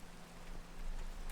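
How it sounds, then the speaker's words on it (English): Rain falls in a Minecraft world as a soft, steady hiss that swells slightly louder toward the end, brief and alone. "And now it's raining."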